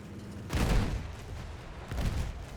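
Two muffled booms a second apart, deep and rumbling, artillery explosions in Battlefield 1, each with a short trailing roar.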